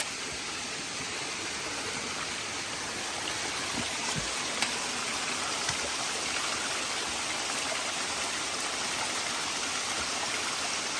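Steady rushing water from a waterfall on a hiking trail fills the scene, a constant broad wash of falling water with a few faint knocks and rustles near the middle.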